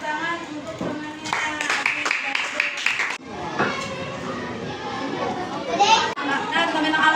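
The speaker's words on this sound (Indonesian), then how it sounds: "Tepuk tangan untuk temannya." Elementary schoolchildren in a classroom break into a burst of clapping for a classmate, the applause rising for a couple of seconds amid lively children's chatter and voices.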